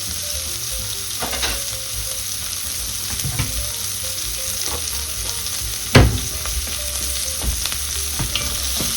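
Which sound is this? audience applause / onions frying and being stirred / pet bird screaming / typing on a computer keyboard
onions frying and being stirred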